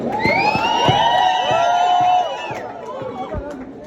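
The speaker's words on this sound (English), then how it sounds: "Let us give a round of applause for him." Loud crowd cheering and whooping at a Zimbabwean film industry event honouring an actor, with excited shouting voices rising together and then dropping off midway, brief chatter continuing underneath.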